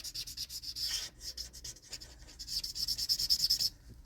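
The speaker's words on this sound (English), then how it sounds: "Sorry about the coloring noise." Steady scratchy rubbing as color is worked back and forth on paper to blend a mushroom drawing. The strokes are close and soft, quickening in places, with no voices.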